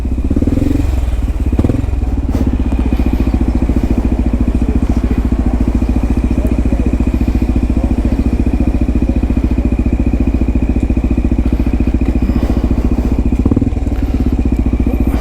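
Engines of scooters or motorcycles rumble continuously on a street in Hoboken, a loud, steady low drone with occasional clatter and thumps as vehicles pass close by.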